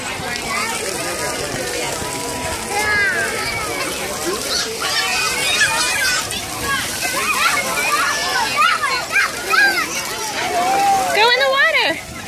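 Water sprays and splashes continuously at a children's splash pad while kids shriek and chatter nearby, with an adult voice talking close up.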